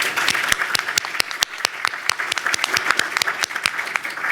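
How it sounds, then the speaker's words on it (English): A round of applause at an education conference panel on the educator pipeline, with sharp individual claps standing out over steady clapping from a modest audience, fairly close and lively throughout. "So another round of applause for everybody."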